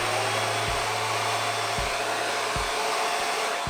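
A hair dryer blows steadily and close up, heating hair wound on a roller near the roots, with a constant broadband whoosh and a low hum that briefly drops out several times as the dryer shifts.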